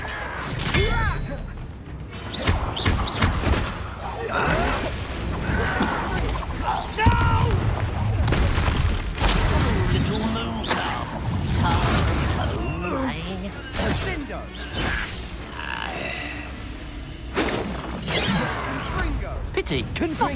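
Repeated loud blasts and thuds of fire spells in the Hogwarts Legacy video game, landing in a dense run of impacts under near-constant shouted spell incantations and battle dialogue.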